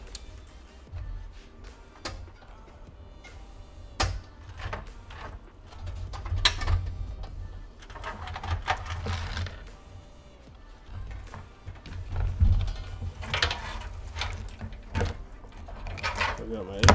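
Screws being removed from a motherboard during a PC build, giving scattered faint clicks and metallic ticks with brief scraping and handling noise under a low background hum.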